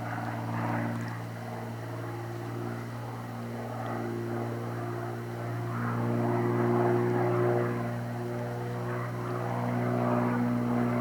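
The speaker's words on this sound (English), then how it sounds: "noise you hear from Scotty's plane taking off." A small propeller plane drones steadily as it takes off from a pond camp, a continuous engine hum with layered harmonic tones that swells slightly midway, heard alone without talking.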